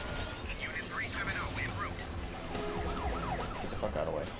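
Police car sirens wailing in a Batman video game, rising and falling tones layered over dense game noise and music, with a voice talking throughout.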